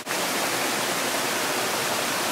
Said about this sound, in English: Well, you can see the waterfall.